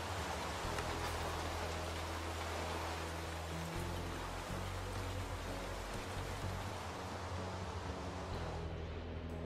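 Steady, faint rain hiss in a video game, continuous for several seconds with a low background hum and no talk.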